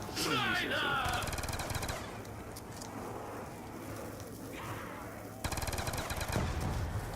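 Weapon fire in Black Ops 2 Zombies, rapid automatic bursts at the start and again near the end, with quieter game sounds in between and a voice talking underneath.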